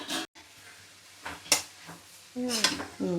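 Spatula clinks and scrapes against a pan as poha egg fried rice is mixed, a few sparse metallic strokes, with a brief voice near the end.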